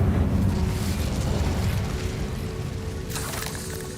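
An Incendio fire spell is cast in Hogwarts Legacy: a loud, roaring burst that fades over several seconds, then a brief bright flare near the end, with no talking.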